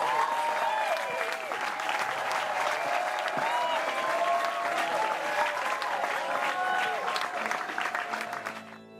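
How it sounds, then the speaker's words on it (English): Audience applause after a hymn performance of "Jesus Calls Us O'er the Tumult", steady dense clapping throughout, fading at the end, with faint voices mixed in. "A round of applause."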